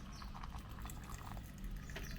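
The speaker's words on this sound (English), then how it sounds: "I'm just going to clean out the filter a bit with some hot water." Hot water poured over a coffee filter to rinse it, a steady, soft, continuous liquid stream close by with no talking.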